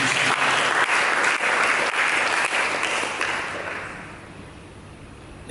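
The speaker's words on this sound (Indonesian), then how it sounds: "Berikan tepuk tangan bagi Yesus." A church congregation claps together for several seconds in a loud, dense burst of applause that gradually thins and fades toward the end.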